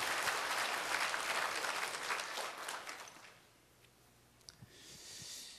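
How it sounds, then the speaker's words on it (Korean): During a Sunday worship service, a church congregation gives welcoming applause for new members. The dense clapping rolls on for a few seconds, then dies away to near quiet with a few stray taps. "환영하는 한번 박수 부탁합니다."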